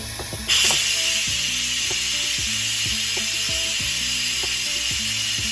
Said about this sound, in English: And then we're gonna turn this lever, take it to venting.